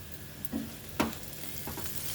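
Eggplant pieces tipped into softened onions in a hot frying pan, giving a continuous sizzle with two brief stirring scrapes and clatters at close range.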